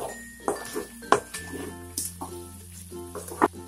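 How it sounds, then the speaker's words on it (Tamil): Chicken pepper fry sizzles steadily in a pan while being stirred, with light metallic clinks and scrapes of the spoon against the pan and a low background hum. "இந்த மாதிரி நல்லா கிளறி விட்டுக்குங்க."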